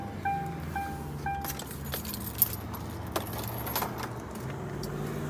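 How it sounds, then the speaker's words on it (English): Door-open warning chime in a 2003–2004 Mercury Marauder: a steady repeating bong pattern rings out inside the car amid a jingle of keys and faint engine hum, with a couple of sharper clicks. "Door bongers going off."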